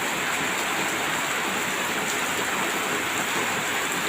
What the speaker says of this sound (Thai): มันบ่พี่น้องฝนตก